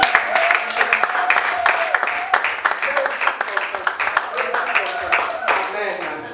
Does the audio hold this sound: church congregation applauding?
yes